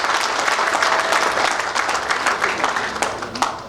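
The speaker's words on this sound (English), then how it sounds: "Let's give them a big round of applause." Steady applause from a large crowd at an installation ceremony, following a song, fills the whole stretch, dense and continuous with a few sharper claps standing out.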